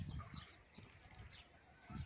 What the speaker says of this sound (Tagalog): may napansin ako dito, may ibon pa dito, nakatambay rin siya